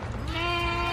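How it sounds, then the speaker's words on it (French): Corsican sheep bleating on a farm, one clear nearby bleat rising and holding steady for about a second, loud and alone. "Mouton corse."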